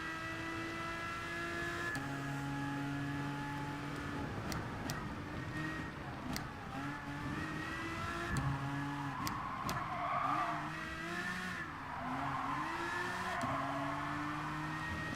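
GT3 race car in Gran Turismo Sport driving hard, its engine droning and shifting through gears while tires squeal and skid in repeated bursts, with brief clicks over a continuous roar.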